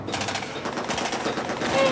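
Rapid bursts of gunfire at a war reenactment battle, dense crackling shots in quick succession, fairly close and continuous.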